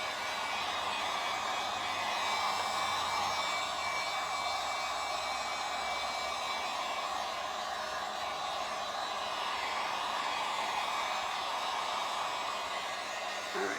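A cheap heat gun blows steadily on a fresh epoxy pour, a continuous close, loud airy rush with no breaks and no talking.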